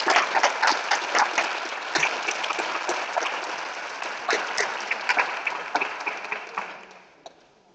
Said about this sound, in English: Let's have a round of applause for both of our